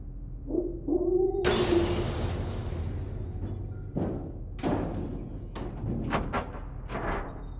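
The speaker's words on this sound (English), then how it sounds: "experimental subject C-13, rampaging through the captain's quarters" A heavy crash of shattering and banging, followed by a string of thuds and bumps as a creature smashes around a spaceship captain's quarters, close and loud.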